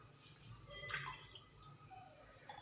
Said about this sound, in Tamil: அதை 2 டம்ளர் தண்ணி ஊற்றிடணும்